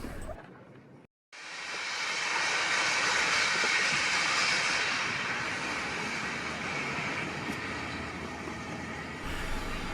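Steam locomotive Tangmere hauls a train out onto the Newcastle line at London Road Junction, producing a loud, continuous broadband roar and hiss that starts after a brief quiet gap and holds steady.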